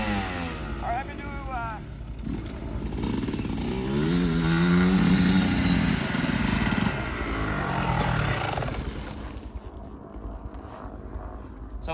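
A 125 dirt bike engine revs during a ride, rising and falling in pitch loud and close, then fading toward the end, with a voice speaking over it at times.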